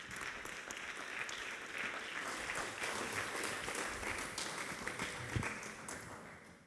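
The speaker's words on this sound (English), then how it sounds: "Please give a huge round of applause for Professor Gernot Müller-Putz." A lecture hall audience breaks into steady, sustained applause for a professor's introduction at a brain-computer interface event in Graz, Austria, the clapping dense and even throughout with no talking.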